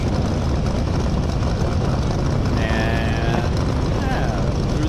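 A Chet Herbert Hemi–powered D Fuel Roadster land speed race car from 2006 on a dry lakebed course, a loud, dense, unbroken engine roar held for the whole stretch with no gaps.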